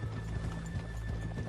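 Horses' hooves clip-clopping in the video game Red Dead Redemption 2, a quick repeating beat of several hooves on the ground, close and steady, with no talk over it.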